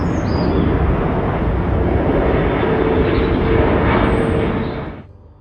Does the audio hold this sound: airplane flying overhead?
yes